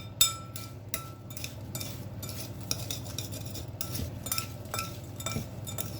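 A utensil mixes chopped apples in a bowl for bread pudding, giving close, repeated clinks and scrapes against the bowl in an irregular rhythm, moderately quiet, with no speech.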